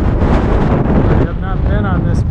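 Strong wind on a mountain peak roars and buffets the microphone in heavy, rumbling gusts, easing slightly partway through while a voice is faintly heard.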